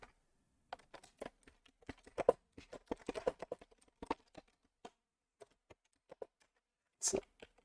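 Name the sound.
typing code on a computer keyboard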